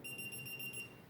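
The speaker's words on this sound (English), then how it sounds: "I got a little voltage alarm." A small LiPo voltage alarm emits a rapid, steady series of high electronic beeps, muffled and fairly faint as though covered by a thumb.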